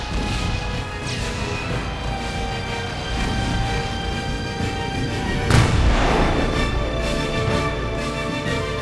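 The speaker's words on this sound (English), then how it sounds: "the British guns open up" British cannon artillery fire on an American fortification during the War of 1812 siege: a dense, rumbling wash of heavy booms with one louder blast near the middle, sustained and loud throughout.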